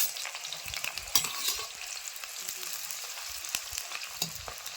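Four chopped onions sizzle in hot oil in a pan, with a steady frying hiss broken by scraping stirs and a few sharp pops, close up and with no talking.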